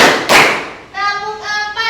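Classroom hand clapping in a counted rhythm: one sharp clap up front, then a quick cluster of claps near the end, with a voice calling out the count in between.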